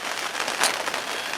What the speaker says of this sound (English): it's been raining pretty much solidly from about 8 o'clock